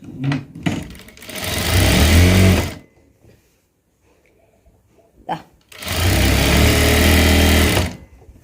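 A sewing machine stitches a fabric slit in two loud, rapid bursts of close mechanical whirring, each a few seconds long, separated by a quiet pause with faint handling noises.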